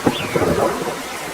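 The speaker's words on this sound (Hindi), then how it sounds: "पता नहीं ये बारिश कब रुकेगी।" Cartoon forest storm with rain and thunder: a rumbling crack over a steady wash of rainfall, with a brief whistling tone near the start, and no voices.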